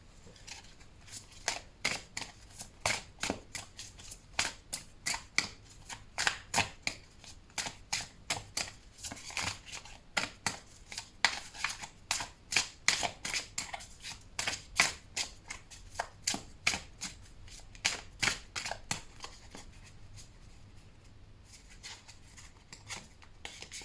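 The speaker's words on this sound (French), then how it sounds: "Nous allons maintenant tirer une deuxième arcane mineure qui va nous renseigner sur ce qui peut nous aider" Tarot cards shuffled and handled, a long run of crisp, rapid riffling clicks and slaps close by, steady for most of the stretch before thinning out near the end, with no voices.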